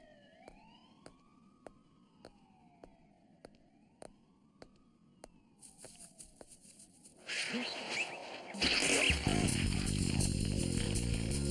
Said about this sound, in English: I can hear police sirens in the distance